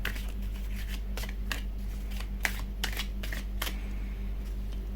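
A deck of tarot cards is shuffled and handled, giving a series of soft, quick papery riffles and snaps over a steady low electrical hum, close and fairly quiet.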